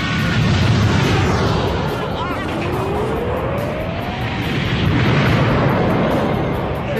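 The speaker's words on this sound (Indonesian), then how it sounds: "Vegeta yang kesal kepada Super 17 segera menembakkan sebuah tembakan laser yang menghasilkan ledakan yang begitu dahsyat" A huge explosion from Vegeta's laser blast aimed at Super 17 in the Dragon Ball GT anime, a loud sustained roaring rumble with a rising streak through it, continuous and close for several seconds.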